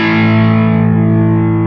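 A power chord struck on a distorted electric guitar rings out thick and sustained, the full saturated tone holding steady for nearly two seconds before it is muted.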